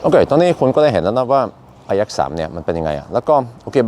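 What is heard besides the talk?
None of the usual background noises is heard.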